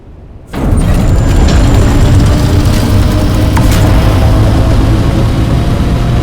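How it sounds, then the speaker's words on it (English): Loud, continuous engine roar of a copter in Dune: Awakening, starting abruptly after a brief quiet moment and holding a steady, heavy low drone throughout. "I booted up the copter's insanely loud engines and flew it through my outsized pentashield"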